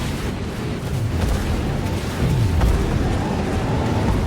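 Explosions in a video game race rumble as a dense, continuous low roar with scattered pops and booms, steady and loud throughout, without talking.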